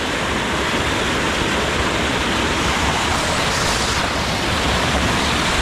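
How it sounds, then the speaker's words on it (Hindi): A waterfall pours steadily in a broad, dense rush of water, loud and close, unchanging throughout with no voices heard. "बैठ जाते हैं एक बार झरने में"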